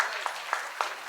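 Brief applause from a seminar audience after a debate, with a few crisp, evenly spaced claps standing out over a soft bed of clapping.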